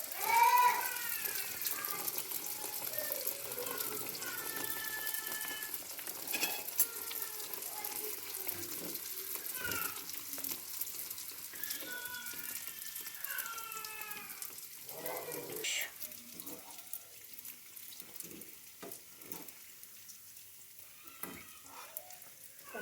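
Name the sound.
bauyrsak dough frying in oil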